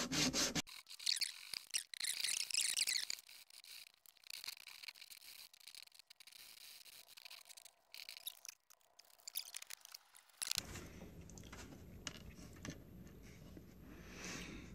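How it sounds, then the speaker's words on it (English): Black walnut pieces rubbed by hand across sandpaper, a dry rasping scrape in short strokes, loud at first and then fainter and intermittent, with a shift in background noise near the end. "I'm just gonna put them on the sandpaper, clean them up a little bit."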